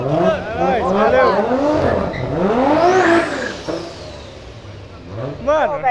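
A Toyota Supra pulls away accelerating hard, its engine rising in pitch through repeated revs with tire squeal, loud and close, while people talk and shout over it.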